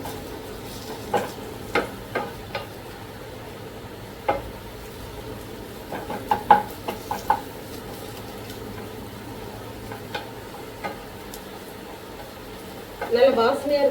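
Onions sautéing in a pan for Punjabi dhaba-style mutton curry: a soft, steady sizzle with occasional clinks of a stirring spoon against the pan, and a brief louder scrape at the end.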